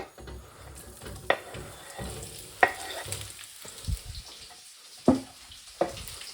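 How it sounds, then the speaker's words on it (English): Onions for prawn biryani fry in a pan with a low, uneven sizzle, punctuated by several sharp scrapes and clatters as they are stirred and tossed. "So, the onions, we're putting in the onions. We just want to brown them."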